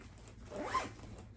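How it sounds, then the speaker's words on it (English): A zipper on the interior pocket of a Coach purse is pulled once in a short, quick rasp, close and clear, with no talk. "And then you do have a interior zip"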